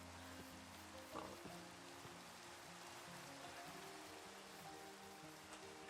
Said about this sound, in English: Oh, it's raining over here.